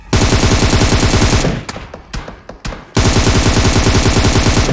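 Rapid automatic gunfire in a shooter video game sounds in loud, sustained bursts, breaks off into a few scattered shots and softer sounds, then resumes as heavy continuous fire.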